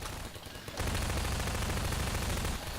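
An automated turret fires in Half-Life 2: Episode Two, a dense sustained burst of rapid gunfire that starts abruptly and stays loud and continuous, with no talking.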